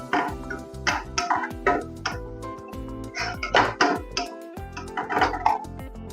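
Red chutney masala being stirred in a pan, with a steady series of close metallic scrapes and clinks from spoon against pan, some sharp pings ringing out between them.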